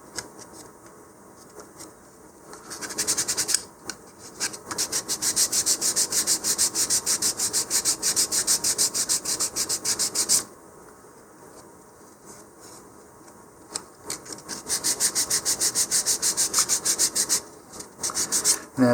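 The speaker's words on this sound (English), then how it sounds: "And the rest should be sanded away." Wood parts of a model rocket being sanded by hand, rhythmic scratchy rubbing strokes in two long bursts separated by quiet pauses, close and clear with no talk.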